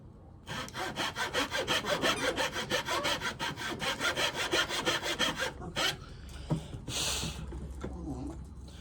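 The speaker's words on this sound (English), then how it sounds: "That's a really nice pull saw. It's a Shinto pull saw." A Shinto Japanese pull saw cutting wood for a 24-inch cigar box guitar fretboard, giving a steady, close rasping rhythm of quick strokes that stops, followed by softer handling noises and a brief hiss.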